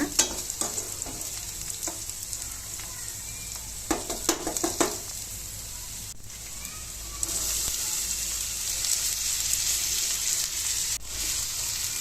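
Cooked green gram goes into a hot pan and sizzles steadily, with a few clattering stirs near the start, a constant close frying hiss throughout and no talk.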